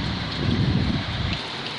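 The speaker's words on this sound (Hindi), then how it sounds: "बारिश झमाझम हो रही है, मूसलाधार बारिश की वजह से रिहायशी इलाकों में पानी," Heavy, steady monsoon downpour in Borivali, Mumbai, with a dense hiss of rain hitting surfaces, loud and continuous throughout.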